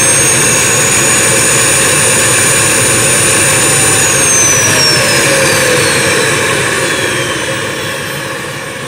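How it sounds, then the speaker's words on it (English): A Dyson DC41 vacuum cleaner runs outside on a deck at maximum suction with no filters, a loud, steady jet-like whine with a high tonal edge that drifts downward in pitch and fades slightly toward the end. "This is a Dyson DC41 raw suction test"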